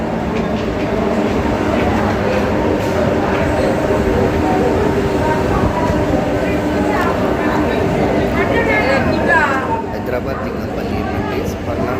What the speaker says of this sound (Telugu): ట్రైన్ అయితే మనకి సికింద్రాబాద్ నుంచి అయితే డిపార్చర్ అయింది